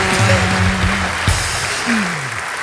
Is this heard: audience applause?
yes